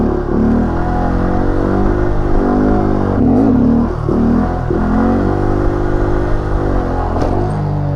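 A stunt motorcycle on a practice lot revs loudly and close, the engine rising and falling through several throttle pulls while the rider works on foot brake control.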